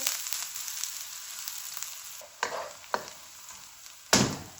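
Onions sizzle steadily in a hot pan, with a few sharp bursts as they are stirred or tossed, close and continuous without talking.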